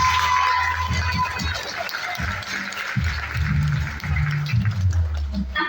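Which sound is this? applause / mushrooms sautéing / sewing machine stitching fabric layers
applause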